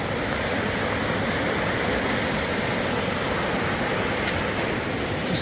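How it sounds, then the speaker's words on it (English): Raging water pours down a forest waterfall over slippery rocks and roots, a loud, steady, close rush of broadband roar that holds without pause. "Just waterfall after waterfall."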